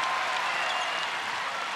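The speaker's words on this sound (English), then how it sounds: "You can hear the crowd." Crowd noise at a Suncorp Super Netball match between the Vixens and Thunderbirds, late in the final quarter, a steady broadband roar of cheering and applause filling the arena without a break.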